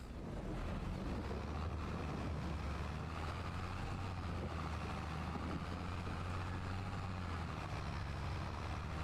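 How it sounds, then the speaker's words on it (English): Tractor engine in a farming video game with its tires spinning in place, heard as a steady, loud low rumble and drone that holds evenly throughout with no speech. "We're just spinning tires here now."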